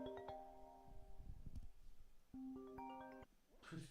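A phone ringtone plays in short melodic bursts of bright tones, one near the start and another after a pause, faint and set against low background noise.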